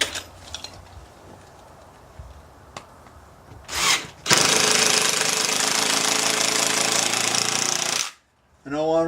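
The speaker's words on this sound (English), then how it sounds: "drill a starter hole using the bit and come down through the top" A power drill whirs loudly and steadily for about four seconds after a few brief bumps, boring a starter hole down through the top of a board, then stops abruptly.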